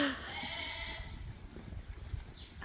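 Sheep in late gestation bleating at a farm, a few calls early on over steady rustling and low background noise, moderately loud and fairly close.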